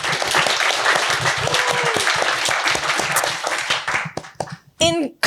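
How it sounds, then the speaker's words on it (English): A crowd breaks into a big round of applause for author Simon Kuper at a talk, loud dense clapping sustained for about four seconds before thinning out, with a few voices and a brief squeal near the end. "Can we have a big round of applause for Simon?"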